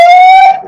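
A voice imitates a nuclear alarm during a comedy set: one loud, sustained, siren-like tone lasting about half a second, then trailing off.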